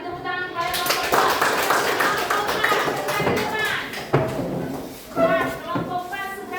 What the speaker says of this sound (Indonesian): kita beri tepuk tangan kepada kelompok 4.